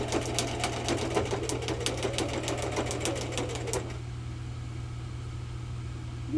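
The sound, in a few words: sewing machine stitching a quilted card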